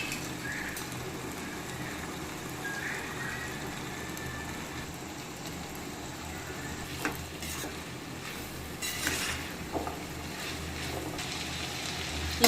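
Boiled mochai field beans and tomato sautéing in oil for a dried-fish kulambu, giving a steady low sizzle with occasional stirring scrapes and a few light clinks, no voices.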